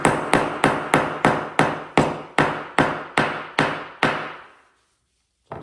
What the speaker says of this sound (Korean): 망치로 쳐서라도